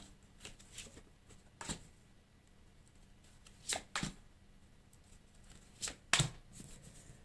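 Tarot cards are shuffled and dealt, giving a few short, crisp riffling bursts and soft snaps scattered across a quiet background, close by, with no voices.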